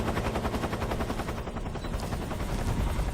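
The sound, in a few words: helicopter in the video game Metal Gear Solid 3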